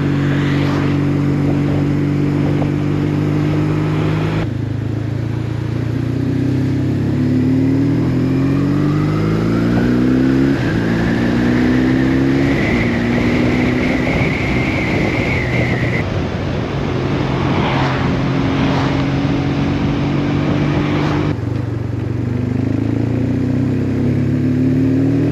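A BMW R1150GS motorcycle engine hums steadily while riding in sub-zero cold, rising and falling through gear changes, with wind rushing over the rider throughout.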